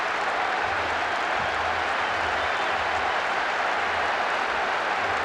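Football stadium crowd in PES 6 on PlayStation 2, a dense, steady wash of crowd noise and applause filling the whole stretch, distant and unbroken, with no commentary over it.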